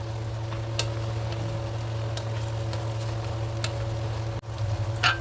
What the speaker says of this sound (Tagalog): lalagay ko na rin yung ating onion para sabay na silang maluto